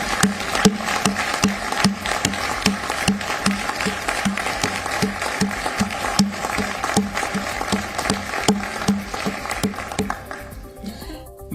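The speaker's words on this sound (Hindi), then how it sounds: "तालियों से गूंजने लगा।" A hall at the G20 summit in New Delhi fills with applause, the crowd's clapping falling into a steady rhythmic beat that carries on for about ten seconds before thinning out.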